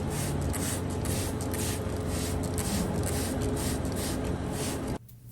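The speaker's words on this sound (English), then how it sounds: "that chlorhexidine comes in handy to wash both the hoof and my tools" Chlorhexidine sprays in a continuous steady hiss onto a horse's hoof and trimming tools, loud and close for about five seconds before cutting off abruptly.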